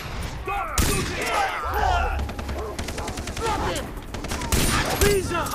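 Rapid bursts of gunfire from a Far Cry 3 firefight fill the scene, dense and continuous with sharp volleys, under shouted speech.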